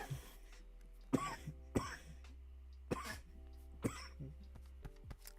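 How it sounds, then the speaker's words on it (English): A person coughs several times in short, separated bursts, fairly close, with a low steady hum in the background. "I have kind of a cough."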